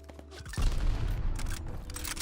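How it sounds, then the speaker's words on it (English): A grenade bursts in the World War II shooter Call of Duty Vanguard multiplayer, a sudden loud boom after a quiet moment, followed by a rumbling wash of gunfire and debris that slowly fades. "Throwing grenade."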